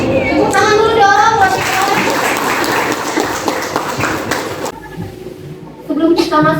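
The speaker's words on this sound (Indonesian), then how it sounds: "Tepuk tangan dulu dong." A class of students claps for a classmate's answer during a lesson, a lively wash of clapping mixed with children's voices and chatter, fading into quieter room noise near the end.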